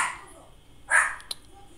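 A single short dog bark rings out at moderate volume against a quiet room, followed by a brief sharp click.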